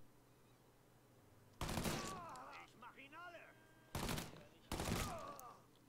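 Rifle fire in the crime game Mafia 3: three loud, sharp cracks, the first followed by a strained voice calling out between the shots.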